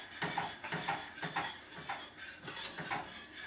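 A spoon stirs thickening grits in a pot, giving a steady run of soft scraping clinks against the metal in a quick, regular rhythm, close and fairly quiet.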